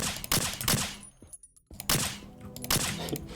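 Gunfire in the video game Athenaeum, a rapid volley of crisp shots followed by a brief lull, then another burst of firing with low-mass objects clattering and scattering.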